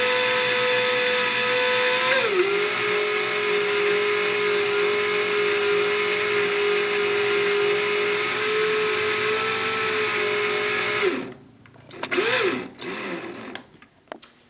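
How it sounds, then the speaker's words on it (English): A power drill whirs steadily for a long stretch, turning to wind wire into a coil around a dowel rod, its motor pitch dipping once early, then stops and gives a few short bursts. "Next, slowly begin to turn the drill."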